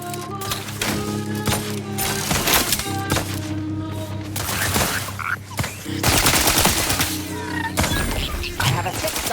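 Sustained gunfire from The Outer Worlds 2 combat: dense, loud bursts and rapid shots continue almost without pause over layered game effects and a low hum.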